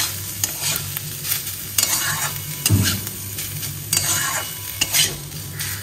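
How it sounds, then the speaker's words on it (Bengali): Rice and chopped banana stem stir-fry in a pan, a steady close sizzle broken by repeated scraping strokes of a spatula, roughly every second, with no voices. "চালটা আর থোড়টা ভালো করে মাখা মাখা হবে, কষা কষা।"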